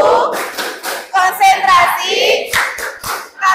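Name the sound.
children's concentration clapping chant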